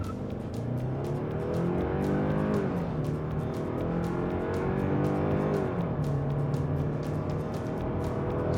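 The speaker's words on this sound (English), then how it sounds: "I wonder if we put it in sport mode, how it would do 0 to 60." A Kia Sportage accelerating from 0 to 60 in sport mode, its engine revs rising steadily through the lower gears with a shift partway, heard continuously from inside the cabin.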